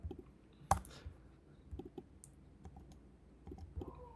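Sparse computer keyboard key clicks while editing a video, with one sharp loud click early and several softer taps scattered through a quiet room.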